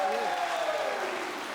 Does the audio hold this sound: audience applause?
yes